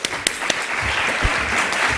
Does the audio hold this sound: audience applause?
yes